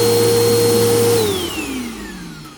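A Bissell PowerForce upright vacuum cleaner runs loud and steady with a constant motor whine, then powers down as the pitch slides lower and the sound fades out.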